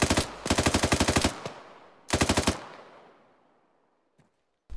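An enemy shooter fires on players in a military video game: two sharp rapid-fire automatic bursts, fairly near and loud, each trailing off into a long echoing decay, followed by a lone faint shot.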